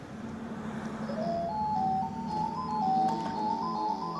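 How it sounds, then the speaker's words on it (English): Pac-Man plays on a 60-in-1 Jamma arcade cabinet, its bright electronic jingle of stepped beeping tones running continuously, close and moderately loud with no talk. "So let's see what Pac-Man sounds like."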